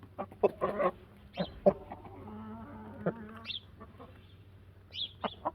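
A rooster clucks in short, scattered bursts at close range, with faint buzzing and other bird calls in the background.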